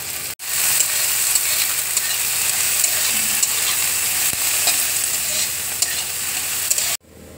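Onion and chilli sizzle and crackle steadily in hot oil in a wok, loud and close, with a brief stir scrape near the end and no talking.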